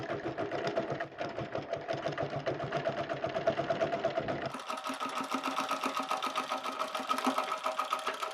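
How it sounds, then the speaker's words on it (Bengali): A sewing machine stitches the hem at the leg opening of a small child's pants, whirring continuously and close up, its pitch and tone shifting partway through. "তার আগে আমি পায়ের নিচের মুহুরির এই অংশটুকু সামান্য একটু বোল্টে সেলাই করে"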